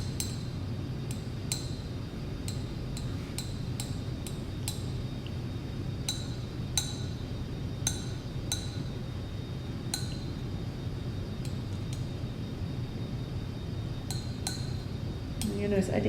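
A tool scrapes sand out of lab glassware during a separations lab, giving sharp, irregular clinks and taps over a steady low background hum.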